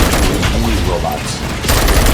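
Rapid bursts of gunfire and heavy booms from the RoboCop: Rogue City video game, loud and continuous across the clip, with a short lull before a renewed dense volley near the end; indistinct voices sit under the shooting.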